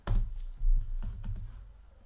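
A few keystrokes on a computer keyboard, including an Enter press, come as short soft clicks and thumps spread over two seconds, close and fairly quiet with no talking.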